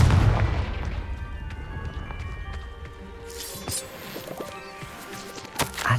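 In the video game Hogwarts Legacy, a Confringo blasting spell explodes with a loud low boom up front, then decays into scattered crashing and rumbling debris, with sharper impacts near the end.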